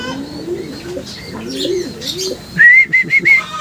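Racing pigeons return to their loft after a 53 km flight, filling the air with soft, close cooing and warbling calls, followed by a few sharp, high whistle-like chirps near the end.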